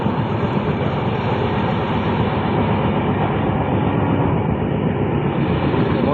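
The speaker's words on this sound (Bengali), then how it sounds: "এখন আমরা বনগাইগাঁও জংশনে ঢুকতে চলেছে ট্রেন" Passenger train rolling into Bongaigaon Junction on a foggy winter day, heard from on board as a loud, steady rumble of wheels and carriage noise filling the whole stretch without a break.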